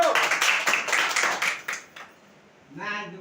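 Students in a spoken English class clap together in a burst of quick, fairly loud applause that fades out, after which a voice begins speaking.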